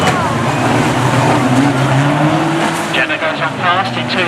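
Banger racing cars at Arlington roar loudly with revving engines and squealing tyres as one spins on the track, with engine noise rising and shifting throughout and a commentator's voice faintly under the din.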